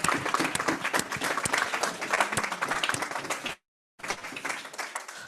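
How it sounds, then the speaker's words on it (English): Applause from a meeting audience fills the room with dense, loud clapping that runs steadily, stops for a brief gap, then resumes just as strongly. "we need to give them a big, big round of applause"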